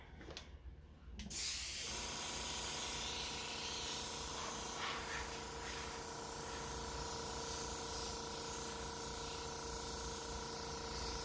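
Airbrush spraying red paint onto a custom fishing spinner, a steady close hiss that starts abruptly after a short quiet moment and runs on continuously.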